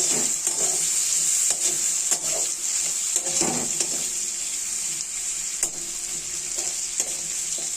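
Chopped onion frying in hot oil with whole cumin and dry red chilli, alongside potato and Kashmiri chilli powder, a steady close sizzle with occasional stirring scrapes and taps of a utensil in the pan.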